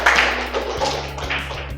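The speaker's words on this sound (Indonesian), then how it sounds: "Sebuah presentasi yang luar biasa dari kelompok 4, tepuk tangan." A classroom of students claps for a short burst after a group presentation, with dense close hand claps over a low steady hum.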